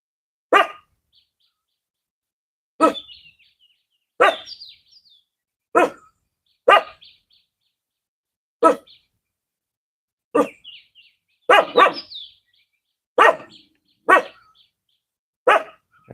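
A dog barks a dozen times outdoors at sunrise, single, sharp woofs spaced a second or more apart, each followed by silence, fairly close.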